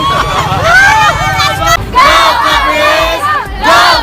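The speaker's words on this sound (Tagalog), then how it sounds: "napakaingay po ng mga Caprice" A large, noisy crowd of supporters cheers and chants at an eviction night for a reality TV show, with rhythmic group shouts and excited voices close by under outdoor wind.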